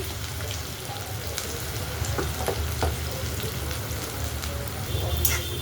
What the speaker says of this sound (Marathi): तेल चांगलं गरम झालेलं आहे. आपल्याला करायचा आहे चपातीचा चिवडा. आता खूप सारा असा कांदा टाकून घेते.